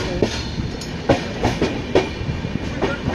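A passenger train runs on tracks between Bangalore and Murdeshwar through the Western Ghats, its wheels giving a loud, close, rhythmic clickety-clack with repeated sharp clanks over steady rolling rumble.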